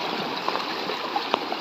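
Water flows steadily along a canal in the morning, a constant rushing wash with a few small splashes and gurgles breaking through.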